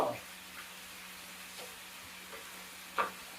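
Faint sizzling of food frying in a pan in a home kitchen, a soft steady hiss broken by a few brief clinks and stirring taps.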